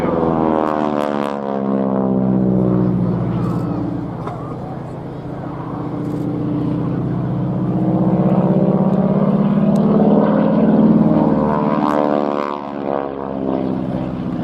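A Harvard (T-6 Texan) propeller trainer flies past at the RNAS Yeovilton International Air Day, its loud droning engine rising and falling in pitch as it passes, while a commentator talks over it.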